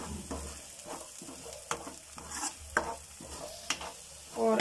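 Red chili and coriander powder roasting in a pan, with rhythmic spatula scrapes and stirs over a soft sizzle, close and fairly quiet, no talking.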